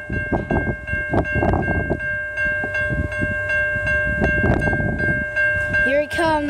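A VIA Rail F40 locomotive in a Canada 150 wrap, VIA #87, speeds past in Mount Pleasant, a loud close rumble with sustained horn tones, then a squealing sweep at the end.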